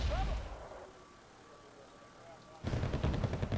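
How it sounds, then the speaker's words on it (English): Allied artillery pounds a wooded area in the video game Wargame AirLand Battle: a loud burst opens, a quieter lull follows, then a dense rolling barrage of heavy booms and crackling impacts takes over near the end. "So here my allies bombarding the woods."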